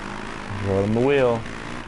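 Motocross bike engine held in third gear in MXGP2, a buzzing, droning tone that rises and falls in pitch as it swells louder, then fades, with someone talking over it.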